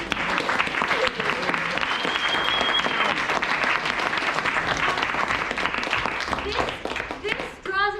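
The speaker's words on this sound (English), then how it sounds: "one more round of applause for our Playwright" A crowd applauds loudly and continuously for several seconds, with some cheering mixed in.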